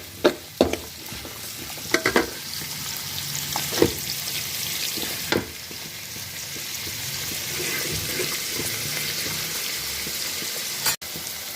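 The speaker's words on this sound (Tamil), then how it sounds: "நம்ம லைட்டாக எண்ணெயிலேயே ஃப்ரை பண்ணி விட வேண்டியதான்" Green chillies and other ingredients frying lightly in oil for cauliflower fried rice give a steady low sizzle, with a few sharp clicks and scrapes of stirring spread through.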